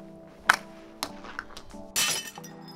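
Window glass breaks in a short scene: a few sharp knocks and clinks are followed by a louder, bright shattering crash near the end, fairly close and with no talking.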